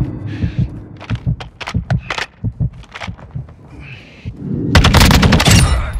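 Video game gunfire from Call of Duty Modern Warfare 2 Team Deathmatch: rapid, rhythmic bursts of shots, then a dense, loud volley near the end, with brief voice callouts in between.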